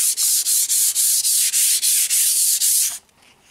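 Sandpaper wrapped on a wooden block rubs back and forth over the bed surface of a wood lathe in about a dozen even, rhythmic strokes, loud and close, then stops.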